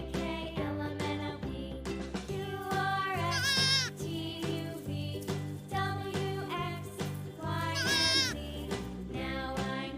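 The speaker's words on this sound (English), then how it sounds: "G for goat." A goat bleats in repeated wavering cries layered over a bouncy musical backing, the calls rising and falling in short bursts with no talking.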